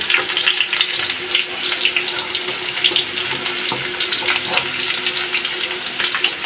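Eggplant for adobong talong frying in hot oil, a continuous bright crackling sizzle with frequent spitting pops, close and fairly loud, no talk.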